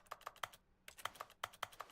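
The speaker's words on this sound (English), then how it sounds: "when I click here, it makes like a typing sound" Crisp keyboard-like typing clicks triggered by clicking in the video game The Stanley Parable, a quick irregular run of taps in two bursts separated by a short pause, clean and close.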